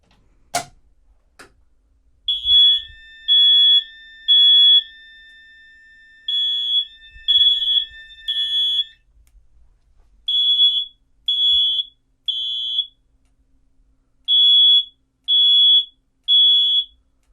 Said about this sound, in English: Sounds a lot like a smoke detector.